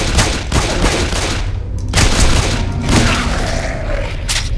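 A gun with unlimited ammo fires continuously in the zombie shooter SAS Zombie Assault 4, a loud, steady stream of shots that barely pauses across the whole stretch.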